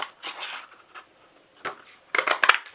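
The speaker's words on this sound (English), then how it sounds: "we are going to punch 2 of these" A paper punch presses through pieces of card stock for a bunny lollipop treat holder, giving a few crisp crunching snaps with softer shuffling handling in between, close and quiet, no speech.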